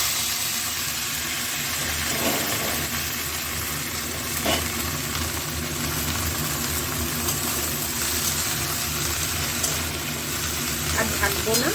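Radish greens frying in a pan, a steady loud sizzle with occasional stirring clatters throughout.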